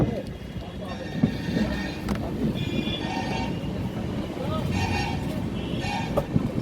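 Kolkata–Sairang Express, train no. 13125, running into Malda station, heard from on board: a steady, loud rumble of wheels and carriage with faint rattles and a brief sharper knock, under indistinct background voices.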